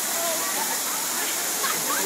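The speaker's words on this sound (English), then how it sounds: "Oh, he's under the waterfall." A zoo waterfall where elephants play in the water roars as a steady, loud, close rush of falling water.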